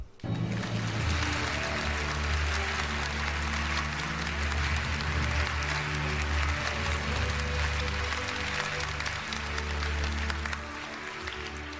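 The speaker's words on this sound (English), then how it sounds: "Let's give a round of applause for Mr. Leonard Wood." Applause from the audience at the 2011 NASCAR Hall of Fame induction ceremony, a dense, steady wash of clapping filling a large hall that holds for about twelve seconds before easing slightly.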